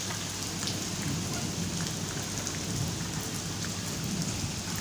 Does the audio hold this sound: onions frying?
no